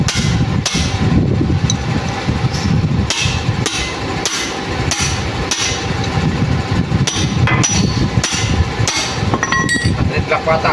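Metal hammering on a damaged truck differential during a mechanic's teardown comes as a steady series of loud, ringing strikes. Voices talk underneath.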